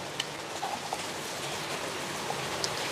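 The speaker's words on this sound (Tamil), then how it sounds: "இப்போ வீடியோ எடுக்கும்போது சும்மா சில்ல சில்லுன்னு ஊத்தினே இருக்குது." Heavy rain pours down at home during a storm, a continuous loud wash of drops with a few sharper splashes and drips standing out near the start and end.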